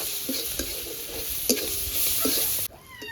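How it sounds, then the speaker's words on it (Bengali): Crushed garlic with a little turmeric and salt sizzles steadily in hot oil, a close, continuous frying hiss broken by a few soft stirring knocks before the sizzle suddenly drops away near the end. "রসুনটা হালকা করে ভেজে নেব"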